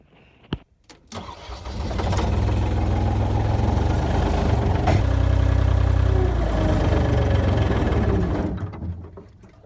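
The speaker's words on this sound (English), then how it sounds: "Now we have to move the skid steer." A skid steer's diesel engine cranks and catches, then runs loud and steady at a low idle rumble for several seconds before dying away, with no talk over it.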